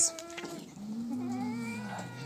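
Cats meow and yowl close by, a drawn-out wavering caterwaul following a higher cry, loud and alone with little else around.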